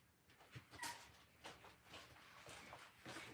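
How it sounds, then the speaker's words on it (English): A beagle mix dog barks and whimpers in short irregular yelps, somewhat distant and muffled indoors, spread across a few seconds with no talking over it. "There is a dog barking."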